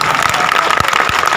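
An audience at a Hindi-language speech event claps in a dense, steady burst that continues through the whole short moment without a break.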